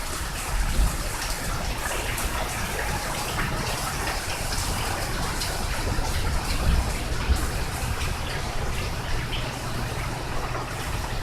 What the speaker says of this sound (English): Just started raining though.